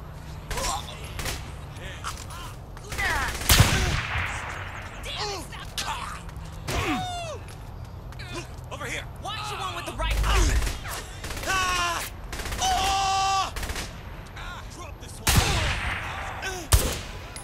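Gunfire in the video game Saints Row The Third, with scattered single shots and bursts of automatic fire over game effects, plus brief vocal sounds between the shots.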